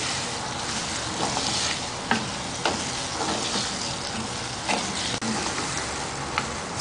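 A chilli pickle mixture with added spices bubbles and sizzles in a pot, a continuous close hiss broken by a few soft knocks and scrapes from stirring.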